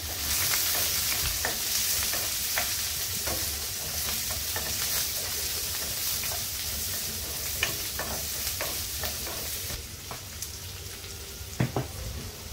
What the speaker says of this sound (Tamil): வெங்காயம், பூண்டு, அப்புறம் பச்சை மிளகாய் எல்லாம் போட்டு நல்லா வதக்கிட்டு